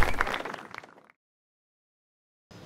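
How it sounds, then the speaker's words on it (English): Audience applause at a tech talk as a speaker comes up to the stage, a dense burst of clapping that fades out after about a second, followed by silence. "Let's give him a round of applause as he comes up."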